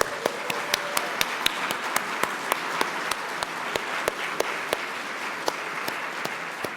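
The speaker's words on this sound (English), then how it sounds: "So let's have a little applause" A small audience applauds award recipient Bill Wilkins at a Distinguished Service Award presentation, sparse and steady clapping with a few sharp, distinct claps standing out, moderately quiet and continuous.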